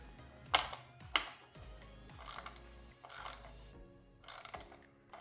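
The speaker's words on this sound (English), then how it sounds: "Got a ratchet here." Hand ratchet tightening a bolt on a 2025 Ford Expedition Active 4WD SV with a 3.5L engine: two sharp clicking bursts early on, then softer ratcheting and mechanical rattles, fairly close and alone.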